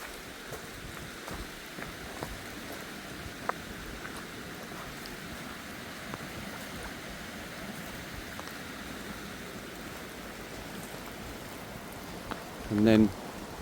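Steady rain falling during a storm beside Loch Lomond, a constant soft hiss of drops spread evenly across the whole stretch, with a brief louder rustle near the end.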